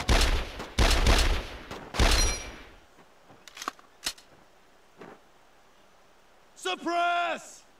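Bursts of rifle and machine-gun fire in the World War II shooter Brothers in Arms D-Day on Sony PSP: loud rapid volleys in the first three seconds, then scattered single shots, with a shouting voice near the end.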